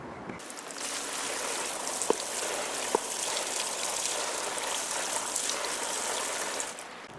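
Water pours steadily onto worm bin bedding, a close, continuous hissing splash like light rain that runs unbroken for several seconds with a couple of faint knocks.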